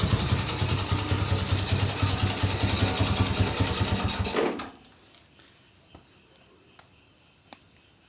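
A Suzuki Shogun 110 motorcycle engine runs loud and close with a steady buzzing drone, then cuts off abruptly about halfway through, leaving faint ticks and quiet background.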